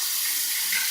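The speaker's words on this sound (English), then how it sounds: "We're going to fill that up with some fresh water." Tap water runs steadily into a bathroom sink, filling it with fresh water before a shave. The hiss is close and even, with no voices.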